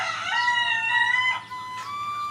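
Day-old farm chicks on a Bangladeshi hatchery farm, just separated from their eggshells, peep in high, sustained, overlapping calls that run close and loud through the whole stretch, with no voices.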